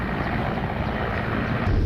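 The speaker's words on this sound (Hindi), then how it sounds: "देखिए तस्वीरें ये आप देख रहे हैं K-52 हेलीकॉप्टर की।" A Ka-52 attack helicopter in flight, giving a loud, steady, broadband rotor and engine roar that fills the short stretch without pause.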